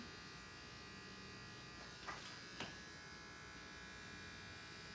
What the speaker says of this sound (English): I'm using the edge of my trimmer to kind of catch the hairs and cut them off